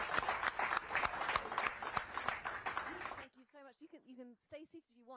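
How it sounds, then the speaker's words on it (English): Short burst of audience applause at a panel discussion on the energy transition, dense clapping for about three seconds that stops abruptly, followed by someone speaking. "a quick round of applause"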